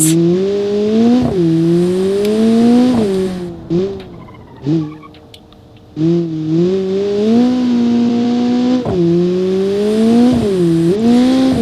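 A turbocharged race car engine in a racing video game, loud and close, revving up in repeated rising pulls with brief gear-change dips, a short lift-off with crackles in the middle, then climbing again.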